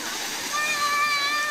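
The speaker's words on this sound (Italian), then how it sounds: "scivoli d'acqua" Water splashes and rushes down water slides in a short, bright burst of spray and flow. A high tonal whine overlays the sound, and a voice is faintly present.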